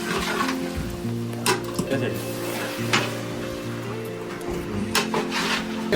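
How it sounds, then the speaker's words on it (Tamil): Food being stirred while frying in a pan at a communal iftar gathering in Japan: steady sizzle with rhythmic scraping strokes, under a faint hum and background voices. "போட்டு மாற்றி மாற்றி கிண்டிக்கிறோம்"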